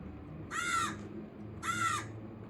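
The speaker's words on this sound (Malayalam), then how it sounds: "കാക്ക" A crow caws twice in a village setting, two separate harsh calls about a second apart, fairly close and clear over a faint low background hum.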